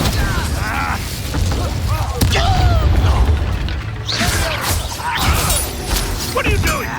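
Incendio fire spell cast in Hogwarts Legacy, a loud whooshing burst with crackling impacts and thuds amid dense combat noise, with voices speaking over the mix.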